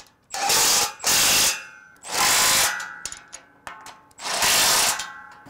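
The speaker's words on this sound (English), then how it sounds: "Now you got to go back to your top cross member and tighten up your bolts." A ratchet tightening bolts on the top cross member of an adjustable steel cattle alley, three loud bursts of rapid close clicking separated by brief pauses and small metallic knocks.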